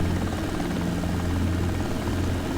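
Helicopter hovering in a desktop flight simulator game, a steady loud rotor and engine drone with a low rhythmic thump, continuous and unchanging throughout.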